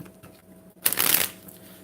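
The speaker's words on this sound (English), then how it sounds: "I'm going to shuffle this 3 more times for Scorpio" A deck of tarot cards is riffle-shuffled once, giving a quick, crisp burst of fluttering card flicks that lasts about half a second, close and clear against a quiet room.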